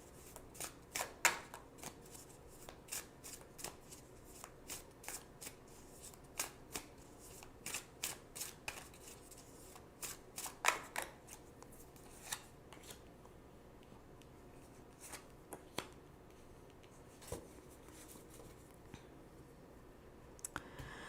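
Tarot cards being shuffled by hand, a steady run of crisp riffling clicks and snaps at close range in a quiet room, continuing for about twenty seconds with no talking.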